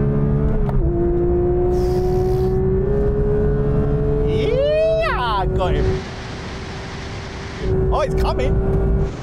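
Porsche 911 GT3 cars, manual against PDK, run a rolling drag race from 30 in second gear: a loud, steady engine drone swells into a sharp rising rev midway, dips briefly, then the engine note returns.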